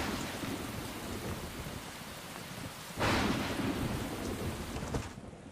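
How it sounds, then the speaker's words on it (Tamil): Heavy rain pours down in a steady hiss during a thunderstorm, and a loud crack of thunder breaks in midway, then the rain rumbles on before fading out abruptly at the end. "நீங்கள் வீடு பார்க்க ஆரம்பித்த நேரம் மழை எப்படி பெய்து பாருங்கள்"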